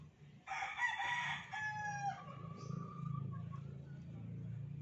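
A stag rooster crows loudly and close by, one long drawn-out call that trails off, with a low rumble of background noise underneath.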